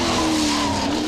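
A race car slides sideways at Pukekohe raceway in a retro motorsport event, tires squealing continuously over the loud roar of the engine, close and steady throughout.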